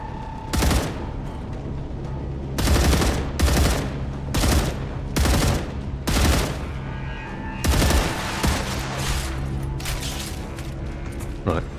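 Sci-fi gunfire in StarRupture crackles in repeated loud bursts, roughly a dozen sharp volleys spaced across the stretch over a steady background hum.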